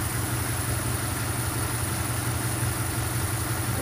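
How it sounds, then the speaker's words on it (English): A warmed-up Mercury engine, one of a pair, idles steadily with a continuous low, even rumble and no variation in pace, close and fairly loud with no voices. "I think the engine is good and warm."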